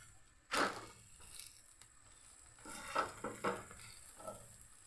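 A wheat dosa cooking on a hot pan, with a soft steady sizzle broken by a few louder scraping and flipping knocks from a spatula; no talking.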